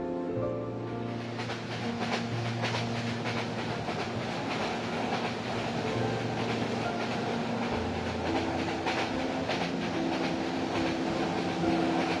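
Parjatak Express passenger train pulling out of a station on the Chattogram to Dhaka route, a loud continuous rumble with rhythmic clickety-clack of wheels over rail joints heard from inside the carriage, no talking.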